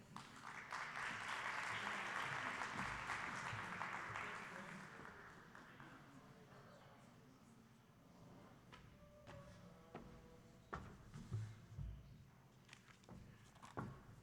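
Audience applause welcoming Senator Charles Perry at a consortium event, loud sustained clapping from a crowd that swells over the first few seconds, then fades out into room noise and scattered knocks.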